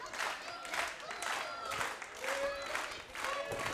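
Indoor wrestling crowd at a World League Wrestling show cheering and clapping as the match opens, a steady roar of applause and whoops with a commentator talking over it.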